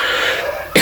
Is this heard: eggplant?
no